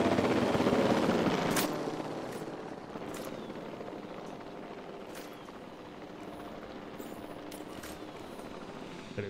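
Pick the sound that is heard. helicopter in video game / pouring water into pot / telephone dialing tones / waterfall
helicopter in video game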